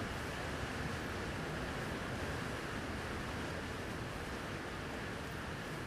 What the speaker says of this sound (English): it's pouring like crazy here